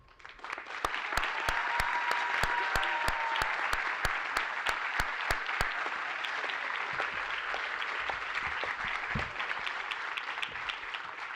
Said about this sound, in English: Please join me in applauding all of our outstanding students